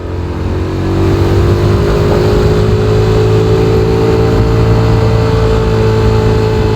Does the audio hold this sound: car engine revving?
yes